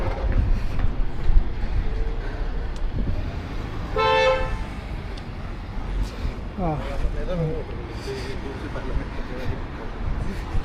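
A car horn toots sharply on a busy street in Harris Park, standing out over steady traffic noise, with a second fainter honk a moment later.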